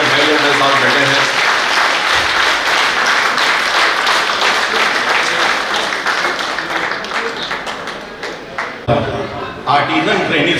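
Audience applause from a crowd at a grand get-together reunion event in Chandrapur, loud dense clapping sustained for about nine seconds before thinning and tapering near the end.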